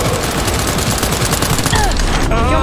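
Gunfire in Cyberpunk 2077, loud and dense, with rapid overlapping shots rattling continuously throughout.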